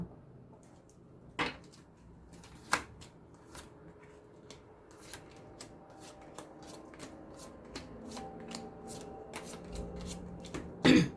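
Tarot cards being shuffled during a French-language reading, with soft riffling and scattered sharp snaps and taps at close range, alone without talk.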